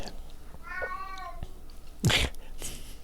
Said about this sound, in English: don't mind the cat in the background; he's having one of his whiny fits